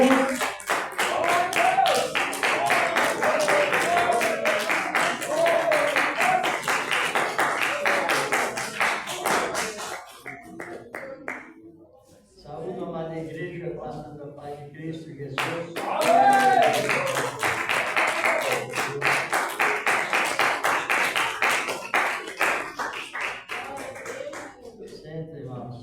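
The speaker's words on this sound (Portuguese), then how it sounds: "Receba o servo de Deus com as palmas bem fortes para Jesus." A church congregation claps hard and fast to welcome a preacher, dense rhythmic clapping that fills the room for about ten seconds, pauses while someone speaks, then surges again just as loud.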